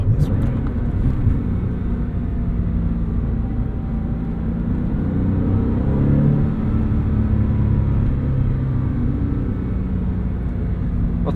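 A 2002 Porsche 911 with its rear-mounted engine cruising along a back road, heard from inside the cabin as a steady, loud, low engine and road rumble with no breaks, while a voice talks faintly underneath.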